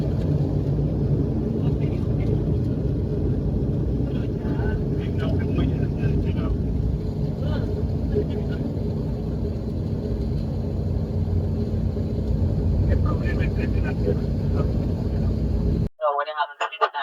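An Inter Caribbean Airways airliner rolls along the runway just after landing, a loud, continuous low rumble and roar heard from inside the cabin with faint voices underneath, ending with a cabin announcement.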